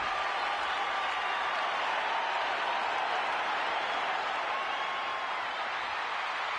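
Steady, distant roar of a WWE SmackDown wrestling arena crowd cheering and applauding for Io Sky, a continuous wash of noise with no breaks.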